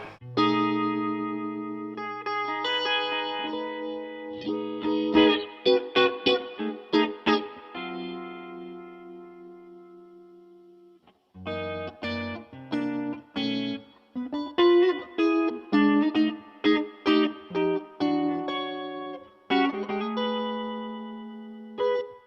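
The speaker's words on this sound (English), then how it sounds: "with the functionality of this mix control, you can really dial in the right sound of the vibe" Electric guitar phrases swirl through a throbbing, pulsing Cornerstone Aquarium Vibe pedal effect, chords and single notes ringing out with a brief pause midway.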